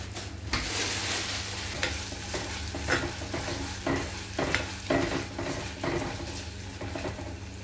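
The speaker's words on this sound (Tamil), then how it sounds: "ஸோ இப்போ கறி லீவ்ஸ் கொஞ்சம் போட போகிறேன் அதில்." Curry leaves and onions fry in a hot pan with a steady, bright sizzle, broken by repeated scraping strokes of a spoon stirring the mixture, close and loud, with no voices.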